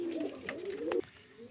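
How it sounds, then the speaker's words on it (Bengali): A Murshidabad Giribaz pigeon gives a soft, close coo, one throaty rolling call ending abruptly about a second in, then quiet. "সব মুর্শিদাবাদের গিরিবাজ লাইনের পায়রা।"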